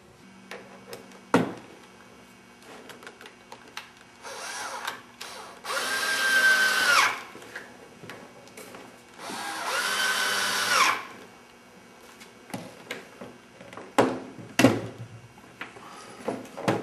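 Power drill driving screws into a sign cover, two separate whirring bursts a few seconds each amid quiet handling clicks and knocks, with no talk.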